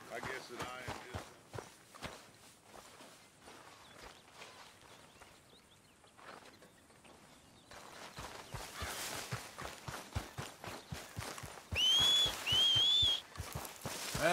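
Hooves clop in a steady walking rhythm, then quicken, with a brief whistle near the end; the sound is synthetic and game-like, a horse in Red Dead Redemption.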